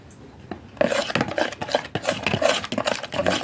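Lemon juice being stirred into a garlic yogurt sauce in a bowl, with a steady run of close scraping and rubbing strokes of a spoon against the dish and no talking.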